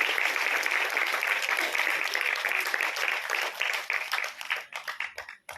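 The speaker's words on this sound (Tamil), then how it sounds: "உங்களது பலமான கைத்தட்டங்கள் உரித்தாகட்டும்" Audience applause after a dance recital, a dense wash of many hands clapping steadily before thinning into scattered claps that fade out.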